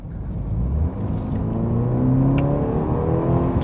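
BMW 320i xDrive with M package accelerating gently in standard driving mode, heard from inside the car as a smooth rising engine hum with steady road noise, no talking.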